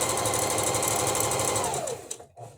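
Sewing machine stitching, starting with a back stitch, a close rapid mechanical chatter running steadily, then slowing as the motor winds down and stopping with a couple of small clicks.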